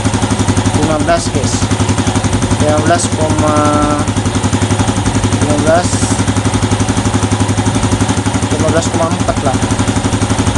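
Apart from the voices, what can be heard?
motorcycle engine idling after being started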